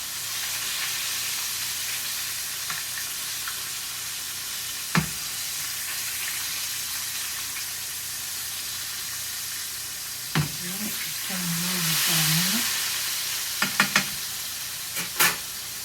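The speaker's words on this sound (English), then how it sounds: "I've already pounded my chops out, seasoned them, and got 3 frying." Steady, broad frying sizzle of pounded, seasoned pork chops in a pan running throughout, fairly loud, with a few sharp clinks and brief scraping sounds near the end.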